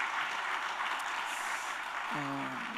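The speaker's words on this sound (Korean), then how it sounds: "우리 모든 영광을 하나님께 박수로 올려드립시다" Church congregation applauding during a Sunday worship service at a Korean Presbyterian church, a steady broadband clatter of many hands filling the hall, with a brief tonal voice or organ note near the end.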